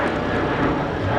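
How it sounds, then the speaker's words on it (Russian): Airplane flying low over the rooftops of houses in Foster City, California, a steady loud engine roar filling the whole moment without any pause or voices. "как пролетают самолеты прямо над крышами домов"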